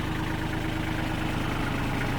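A Kubota L2605 tractor with a 27-horsepower engine idles close by, a steady low rhythmic diesel chug that stays even and continuous with no voices over it.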